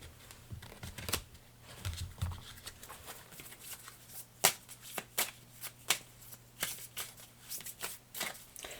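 A deck of oracle cards shuffled close up in quick, crisp riffles and slaps, irregular bursts with brief pauses between them, quiet and alone.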